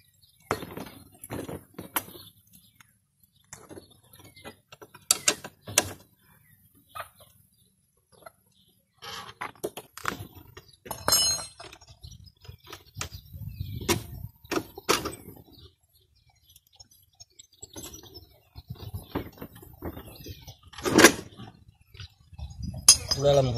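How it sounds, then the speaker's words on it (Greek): Someone loosens the central wheel nut on a Honda SCV100F scooter, making scattered sharp metallic clinks and clanks of tools. Quiet gaps separate the sounds, and a bird chirps faintly in the background. "ξεσφίγγουμε το κεντρικό παξιμάδι"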